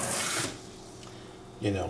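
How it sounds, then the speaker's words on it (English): Tap water runs into a kitchen sink while capers are rinsed, a soft hiss that starts, breaks off briefly and resumes near the end, faint and close. "Okay, so I'm going to rinse these off."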